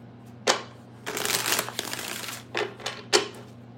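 A deck of playing cards riffle-shuffled several times, sharp fluttering bursts of close card flicks separated by brief pauses, with no talk.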